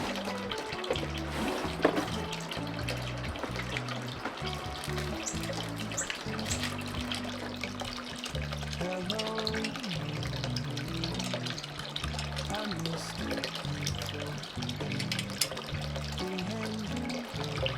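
Water splashes and trickles steadily from a garden fountain on a backyard patio, a continuous close, even flow with no voices.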